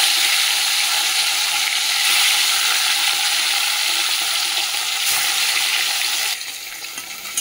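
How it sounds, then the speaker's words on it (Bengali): Fish frying in hot mustard oil in a wok, a loud, steady crackling sizzle throughout that settles down near the end. "মাছটা ভেজে নিই।"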